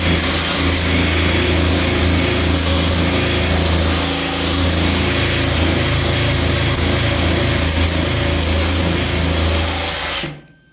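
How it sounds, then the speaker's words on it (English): A wire wheel spun by an electric drill strips black primer coating from a 1959 GMC pickup roof panel, a loud, steady grinding whir running continuously for about ten seconds before cutting off abruptly. "that's just basically a wire wheel on an electric drill"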